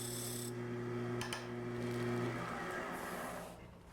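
A wood lathe turns a wooden box while its wall is thinned, giving a steady, close, rasping cut with a constant motor hum underneath and a couple of brief scraping clicks.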